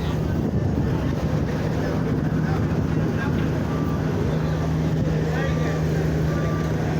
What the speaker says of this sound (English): here we have the fast ferry has docked